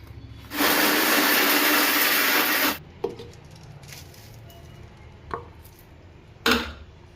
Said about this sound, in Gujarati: આવું 4-5 વાર દળવાનું થાય મિક્સરમાં.